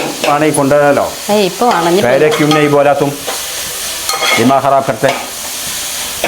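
Onions and capsicum fry and get stirred in a pan, a steady sizzle with scraping stirs running beneath a prominent melodic voice or music throughout.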